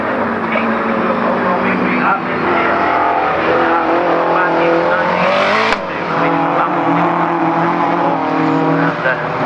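A rear-wheel drive turbocharged rallycross car races at Croft, its engine roaring loud and continuous with a brief sharp crack midway, while a commentator talks over it.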